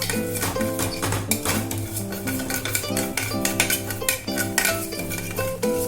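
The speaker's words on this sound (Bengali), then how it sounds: "ডাল বসালাম মুগ ডাল এটা একটু ভেজে বানাবো" Mung dal dry-roasting in a pan is stirred with a metal utensil, giving repeated close scraping and clinking against the pan over a faint background hum.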